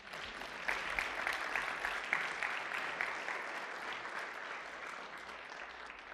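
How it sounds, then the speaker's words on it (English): An audience at a religious gathering applauds steadily, a dense wash of clapping that stays fairly even and distant for about six seconds with no talk over it. "Give them a round of applause."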